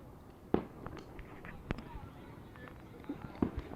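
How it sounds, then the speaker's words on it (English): Fourth of July fireworks pop faintly in the distance beyond a ballpark, scattered sharp cracks and thumps at irregular intervals over a low crowd murmur, with someone talking. "we're getting remnants of the 4th of July fireworks over in"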